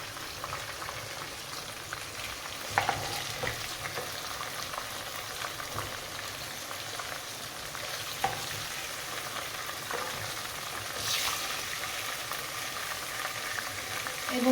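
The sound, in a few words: chicken chaap frying in oil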